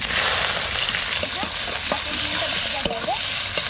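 Onion fries in oil with a loud, dense sizzle throughout, with scattered scrapes and taps from stirring and one sharper knock partway through.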